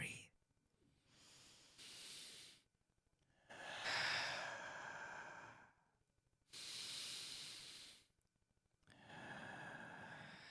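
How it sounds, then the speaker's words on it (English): Slow, deep breathing exercise of long hissing inhales and exhales, four or five breath cycles spaced by pauses, close and quiet, with no talking. "Let's breathe."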